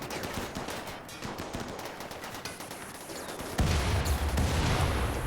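Mortar salvo fire in RimWorld, a dense run of rapid gunfire-like reports that grows louder and heavier toward the end, with no talking.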